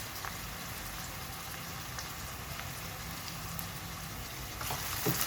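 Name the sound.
onions frying in oil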